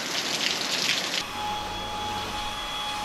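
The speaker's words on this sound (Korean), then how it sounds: "또 이렇게 비가 오네." Rain falls steadily as a dense, even hiss with a steady hum beneath it, continuous throughout and fairly close.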